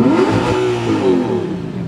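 An Audi R8 V8 engine revs up and falls back in a loud, close, sustained burst, its pitch rising and dipping through two quick swells with no talking over it.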